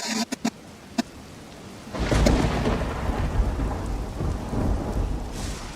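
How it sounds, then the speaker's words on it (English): Video game thunderstorm in a sudden storm scene: a few sharp drips, then a loud rolling thunder rumble over steady heavy rain that continues to the end. "Separated from her family by a sudden storm and rising river, help Loli"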